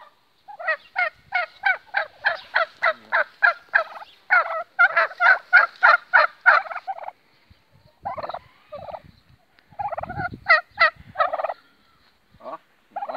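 Turkeys gobble in a morning yard, a rapid series of loud, close, rattling calls in bursts with short pauses, several birds answering one another with almost no talk.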